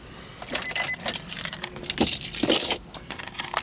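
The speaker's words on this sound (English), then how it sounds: "Put the keys down" A bunch of car keys jingles and rattles as it is set down inside a vehicle, with several bright metallic clinks at close range and no talk.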